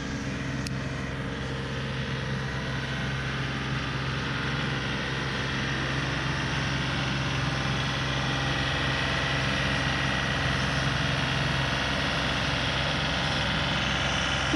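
A farm tractor engine idles steadily at a goat farm, giving a continuous low, even hum with a rumbling drone that holds unchanged throughout, with no voices over it.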